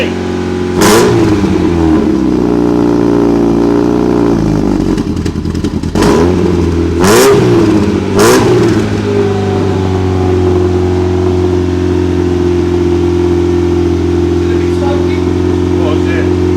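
An MG MGF engine, started after two years unused, idles loudly and steadily, with several sharp revving blips rising and falling in the first half before settling back to a rough, continuous idle.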